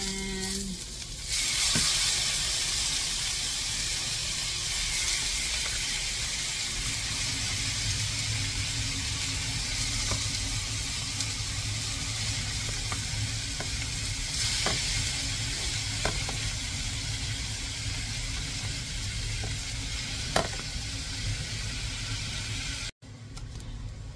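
Chicken pieces sizzle steadily in a hot pan for a chicken curry, a loud continuous frying hiss with occasional stirring clinks, no talking.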